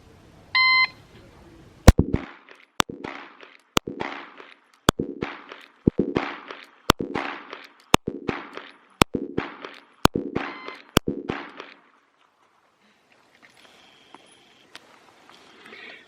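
A Glock 19 Gen 5 pistol fires after a shot timer's electronic start beep, with ten sharp shots at an even pace of roughly one per second, loud and close, followed by quiet.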